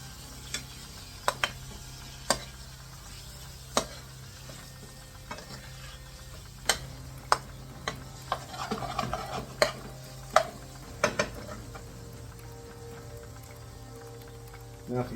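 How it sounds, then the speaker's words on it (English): Lamb being stirred through spices and ginger garlic paste in a pan for a takeaway-style rogan josh, with scattered sharp scrapes and clinks of the utensil over a low steady hum, and a soft burst of sizzle midway. "Get all that lamb coated up in the spices and the ginger garlic."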